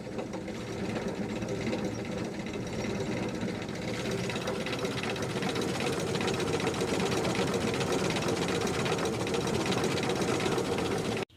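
A vintage Rolls-Royce 20/25, fully warmed up, idles smoothly with an even, busy mechanical whir and faint rapid ticking, steady and close throughout before cutting off at the very end.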